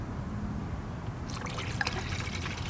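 Coolant trickles and gurgles as it is poured into the reservoir of an Acura NSX, a soft, steady liquid stream up close, with faint splashy bubbling midway.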